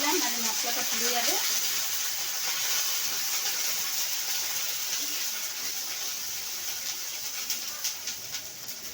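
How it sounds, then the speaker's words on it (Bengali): Spice paste and a splash of water hit hot oil in a pan while cooking a spicy fish curry, giving a loud steady sizzle and hiss throughout, with faint bird chirps briefly at the start. "তেল গরম হয়ে গেছে, এবার আমি মশলাটা, সব বেটে রাখা মশলাটা দিয়ে দিই।"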